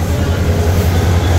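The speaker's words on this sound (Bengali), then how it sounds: "এটাই মহানগর ট্রেন" The Mahanagar passenger train stands at a station, giving off a loud, steady low rumble and broadband roar with no clear pauses.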